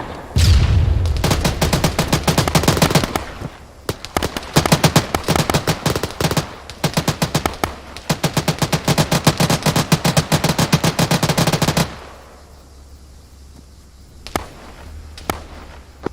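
Heavy mounted guns lay down suppressive fire in the Arma 3 military sim, long rapid bursts of loud automatic gunfire with brief pauses, ending abruptly before a couple of faint distant shots.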